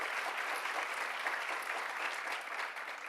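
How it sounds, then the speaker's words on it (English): An audience applauds at an event with remarks on reproductive justice, giving a steady, even wash of many hands clapping together, moderately distant and sustained without a break. "Give yourselves a round of applause."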